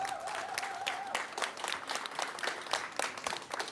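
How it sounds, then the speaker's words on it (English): An audience applauds at a veterans event, with dense, sustained clapping that fills the room at a steady level after a brief tone at the start. "please give everybody a round of applause"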